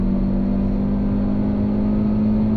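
Hyundai i20 N hot hatch engine pulling hard at full throttle on a race track, a steady loud droning roar with a strong low hum that holds throughout, no voices.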